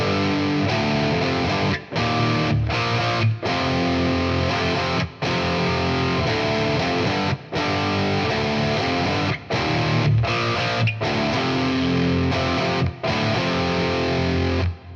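Distorted electric guitar plays a song chorus in drop D, loud and sustained, with short breaks between chords.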